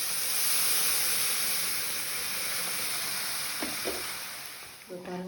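Buttermilk curry mixture for a curd kulambu hits a hot pan with a loud broad sizzle that slowly fades, followed by a couple of soft clinks and a brief voice near the end.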